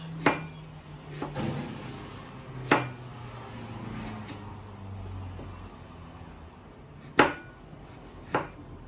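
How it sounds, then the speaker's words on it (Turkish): Knife chopping potatoes on a cutting board for a baked potato dish with béchamel sauce, a handful of sharp separate knocks spaced irregularly over a quiet background. "Patateslerimizi doğruyoruz."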